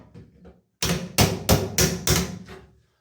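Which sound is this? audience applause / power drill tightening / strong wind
power drill tightening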